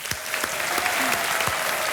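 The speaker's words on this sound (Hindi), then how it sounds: "इन सभी महिलाओं के लिए एक बार फिर जोरदार तालियां बज जाएं।" Studio audience on the Kaun Banega Crorepati season 10 set breaks into loud, sustained applause, a dense wash of clapping that stays steady for the whole two seconds with no talk over it.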